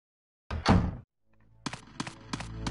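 A heavy door thunks shut in the survival horror game Resident Evil Code Veronica, one deep close thud followed by a pause and then a series of lighter clicking steps.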